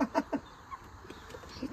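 A rooster at a home clucks in a short burst of three quick near calls, followed by fainter scattered clucks.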